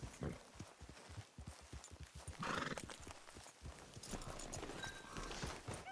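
A horse in the Western video game Red Dead Redemption 2 clip-clops with quick hoof falls across the ground, then lets out a loud whinny partway through, with more hoofbeats and ambient rustle around it.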